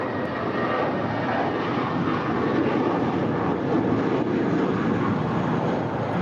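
Spirit airliner taking off from LAX runway 25 right, a loud, steady, broadband jet engine roar that holds level throughout, with no talking.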